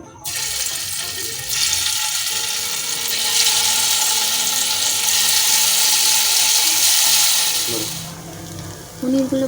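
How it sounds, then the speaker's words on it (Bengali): Paneer pieces fry in hot oil in a frying pan, giving a loud, steady sizzle that swells after a brief clatter, holds for several seconds, then drops away with a few faint knocks. "তেল গরম হয়ে গেছে, এবার পনিরগুলো ভাজবো লাল লাল করে।"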